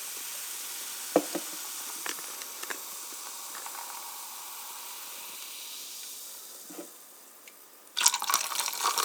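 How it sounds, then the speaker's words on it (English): Cherry Coca-Cola poured from a can into a glass gives a steady, soft fizzing hiss with a few light clinks, swelling into a brighter, louder burst of carbonation near the end. "you open up this can of cherry Coca Cola and you pour it into"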